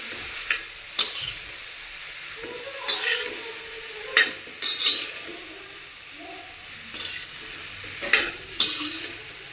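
Mushrooms being stirred in a pan, with a spoon scraping and clinking against the metal in a series of distinct strokes over a faint sizzle, close by, without any talk.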